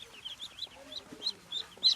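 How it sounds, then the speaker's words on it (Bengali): Ducks offered for sale by a vendor give short, nasal calls in uneven bursts, growing louder toward the end, over faint background murmur. "এটা হাঁস"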